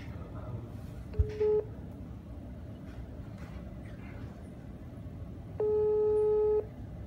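A mobile phone call ringing out in Jakarta, two electronic ring tones: a short burst early, then a steady tone of about a second, over a constant room hum and low background noise.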